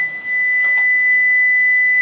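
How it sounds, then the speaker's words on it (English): A steady, high electronic beep tone sounds continuously from an oven signalling it has preheated, in an otherwise quiet room. "And there, my oven's ready. It's beeping."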